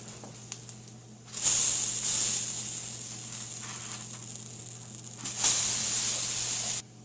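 Small sand dollar oatmeal pancakes sizzle in a pan, a soft steady hiss that swells into two louder bursts of frying, with no talking over it.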